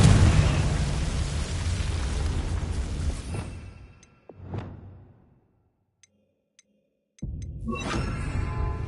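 Confringo blasting spell explosion in the video game Hogwarts Legacy, a loud roaring burst that decays into a few softer whooshing pops, near silence with faint ticks, then another loud swell.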